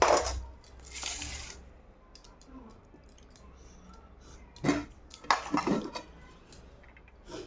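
Plates and metal dishes clink and clatter in a home kitchen while lunch of rice, fried potatoes and fish curry is served, with a few scattered sharp knocks and a louder burst of handling near the end.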